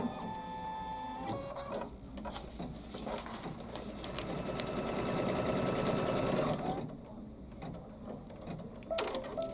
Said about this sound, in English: the embroidery machine doesn't like sewing through no-show mesh alone